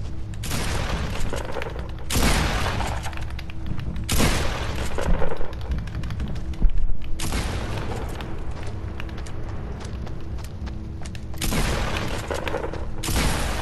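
Bursts of gunfire from a Fortnite match, with several long sustained volleys separated by brief gaps and a heavier blast near the middle, loud and continuous.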